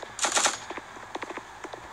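Rapid bursts of automatic gunfire in the mobile shooter Guns of Boom, a dense volley up front, then scattered shorter clusters of shots, moderately loud and close.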